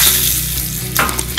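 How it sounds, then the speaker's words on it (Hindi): Dried red chilli, mustard seeds, curry leaves and a pinch of asafoetida fry in hot oil as a tempering for coconut chutney, giving a loud, continuous close crackling sizzle with a brief burst of sharper spatter near the end, and no talk. "1-2 सेकेंड फ्राई होने देते हैं मिर्ची को।"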